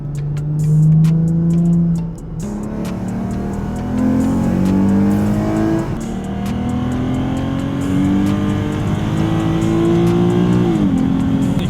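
A Lexus IS 350 engine revs hard and climbs to a high pitch near its rev limiter, about 7,200 RPM, several times, heard from inside the cabin, with brief dips as gears change.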